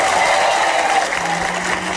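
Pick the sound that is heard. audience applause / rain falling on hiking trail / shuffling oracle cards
audience applause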